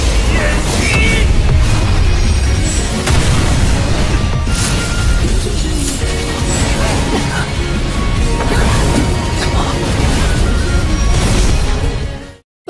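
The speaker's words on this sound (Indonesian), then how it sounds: "Ledakan energi api warna-warni sekali lagi memenuhi langit" A loud, sustained roaring blast of a fiery energy explosion in the animated series Battle Through the Heavens fills the whole stretch, with repeated crashing bursts layered through a dense rumble before it cuts off abruptly.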